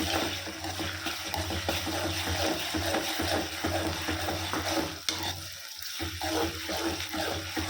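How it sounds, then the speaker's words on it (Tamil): Onions with ginger garlic paste frying in a pan for masala chicken, a steady close sizzle with continuous scraping stirs of a spoon, loud and unbroken apart from a brief pause. "நல்லா இஞ்சி பூண்டு விழுது வெங்காயம் பச்சை வாசம் போகிற வரைக்கும் நல்லா வதக்கிக்கலாம்"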